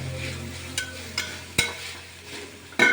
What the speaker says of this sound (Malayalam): ഇനി ഇതിലേക്ക് സ്വല്പം ക്യാബേജ് അതൊന്ന് നന്നായി ഒന്ന് ഇളക്കിയതിന് ശേഷം